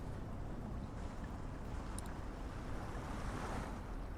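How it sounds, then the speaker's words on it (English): Water ambience plays during a tabletop game: a steady, faint wash of surf-like rushing water with wind noise, continuous and without breaks. "I think I hear water, and I definitely hear the thunder getting louder"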